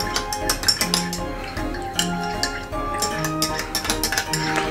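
A spoon mixes soured milk in a bowl, producing steady scraping and clinking strokes against the side in a quick repeating rhythm, close and fairly loud.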